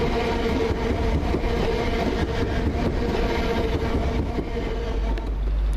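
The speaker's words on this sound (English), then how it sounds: "It's now arriving the 1348 service to Hertford North." Class 317 electric passenger train 317664 pulls into a London-area station on the Hertford East service, a steady, loud rumble and rolling hum of wheels and motors filling the whole stretch without a break.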